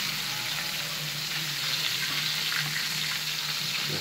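Chicken frying in a pan, a steady close hiss and crackle of sizzling oil throughout with a faint low hum underneath and no voices.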